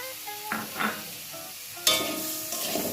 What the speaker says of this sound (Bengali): দিয়ে ভালো করে নেড়ে দেব, যাতে চিনিটা একটু গলে যায়